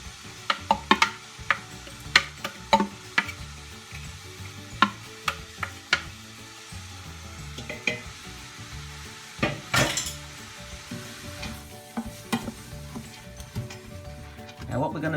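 Vegetables for a lentil ragu hitting hot oil in a pan, a soft steady sizzle under repeated clinks and scrapes of a utensil stirring against the pan, with a person talking throughout.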